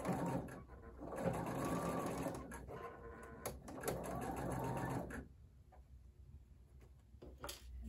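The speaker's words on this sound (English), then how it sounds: "I'm going to sew on the side of the square." A sewing machine stitches the side of a quilt square in steady mechanical bursts, pausing briefly between runs, then falling quieter toward the end with light handling clicks.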